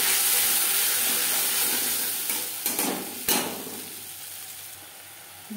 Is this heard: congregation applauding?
no